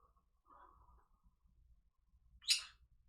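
Pet birds give a single short, bright chirp near the end, preceded by faint soft twittering at low level in a quiet room.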